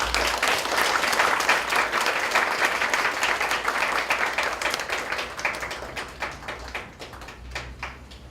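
Applause from a church congregation welcoming a member forward during a 12th anniversary worship service, steady clapping throughout that thins slightly toward the end.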